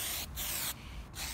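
Spray cans hiss as primer goes onto a tank, three steady bursts of loud, airy spraying broken by brief pauses.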